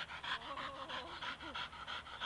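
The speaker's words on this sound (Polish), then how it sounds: "Pieseczka, suczka." An American Staffordshire terrier bitch, tired out, pants in quick rhythmic breaths close to the listener, with faint whimpery tones mixed in.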